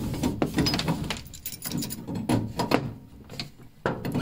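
A small pipe wrench works on a fitting of a home heating boiler's pressure relief valve, giving a series of close metallic clicks, scrapes and grinding turns in short irregular bursts.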